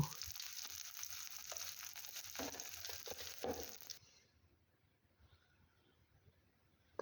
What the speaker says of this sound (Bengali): এর মধ্যে পেঁয়াজ কুচি কাঁচামরিচ লবণ দিয়ে ভালোভাবে ভেজে নেব